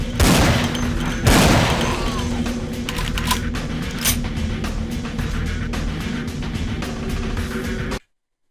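Rapid bursts of gunfire in Vampire: The Masquerade – Bloodlines with the Final Nights mod, loud and dense with two heavy booms early on, then continuous crackling shots throughout with faint game ambience beneath.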